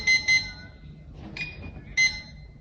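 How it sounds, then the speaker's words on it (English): A Power Bolt digital door lock keypad gives two quick high beeps, a softer tone, then one more beep, bright and close against a quiet room. "the 2 beeps says that it was active"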